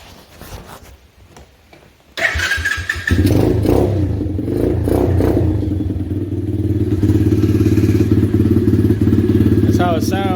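An X-Pro 125cc dirt bike engine, cold at first, catches after a brief quiet start and settles into a steady, loud idle with some rising revs and mechanical clatter close by.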